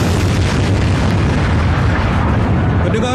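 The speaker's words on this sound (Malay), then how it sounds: "kedengaran satu letupan dari arah laluan truk ulang bekal" An explosion on a supply truck route during a military demonstration booms loudly and fills the whole stretch with a dense, sustained rumbling roar.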